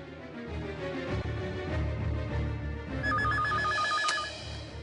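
A telephone rings once with a warbling electronic trill lasting about a second, heard over a busy background of music and room noise in a TV drama scene.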